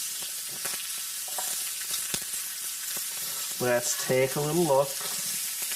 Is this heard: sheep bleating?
no